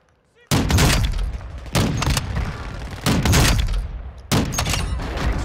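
Four loud, heavy sniper rifle shots in Call of Duty: Modern Warfare II, each a sharp blast with a long booming tail, spaced roughly a second apart and filling the whole mix.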